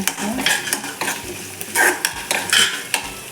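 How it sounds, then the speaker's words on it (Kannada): Garam masala spices frying and being stirred in a pan for village-style egg sambar, with close, lively sizzling and repeated scraping stirs of a spoon against the pan, no voices. "ಗರಂ ಮಸಾಲೆ ಫ್ರೈ ಮಾಡಬೇಕು"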